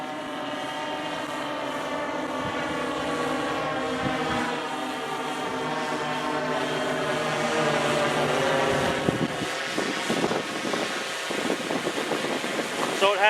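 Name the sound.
unmanned aircraft climbing to 65 meters altitude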